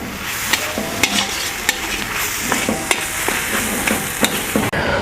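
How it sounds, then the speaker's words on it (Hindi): A spoon scrapes and clinks through onion and potato kachori filling in a pan, several sharp taps spaced irregularly over a steady soft sizzle. "और अब हम इन सभी को बढ़िया मिक्स कर लेंगे।"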